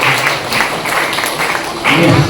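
An audience at a school vacation course program applauds for the madam and staff, a dense, fairly loud clatter of many hands that continues under a voice speaking over it.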